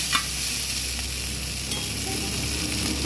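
Chowmein stir-fried at a street stall gives off a steady, close sizzle with a few faint scrapes, a bright hissing wash that stays even throughout with no talking.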